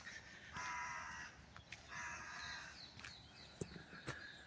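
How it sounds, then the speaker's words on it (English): A crow caws repeatedly in snowy winter woods, moderately distant, over a steady outdoor hiss with a few light knocks. "Lovely crow."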